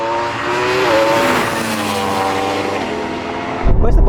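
A Porsche Taycan Turbo GT pulls hard in a drag race against a Ferrari SF90 and a Yamaha R1M, a loud, rising whine with a steady tonal drone, capped by a sudden rough roar and buffeting near the end.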